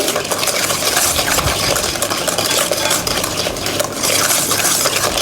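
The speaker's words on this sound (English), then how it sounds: "with this whisker. And keep mixing until it becomes creamy" Butter and sugar being whisked together in a bowl until creamy, a steady, busy scraping and clattering of the whisk that runs loud and close for the whole stretch without any talking.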